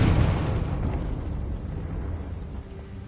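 A Confringo spell explosion in the Hogwarts Legacy video game, a loud booming blast at the start that rumbles and slowly fades over a few seconds.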